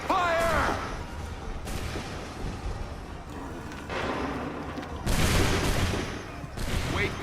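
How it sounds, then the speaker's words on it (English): Musket volleys crack out in Assassin's Creed III battle between British and American lines, several loud massed bursts a few seconds apart, with shouted commands between them. "Make ready. Make ready. Fire!"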